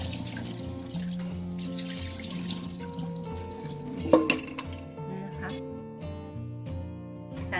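Rice being rinsed under a running tap, then the water drained through a perforated strainer: a steady close water flow with clinks of a metal bowl and strainer, and the stream easing off toward the end.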